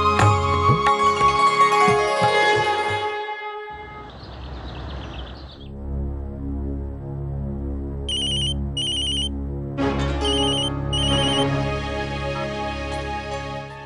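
A phone ringtone sounds for an incoming call, a loud melodic tune that pauses and then resumes with bright repeated chirping beeps, clear and close with no talking.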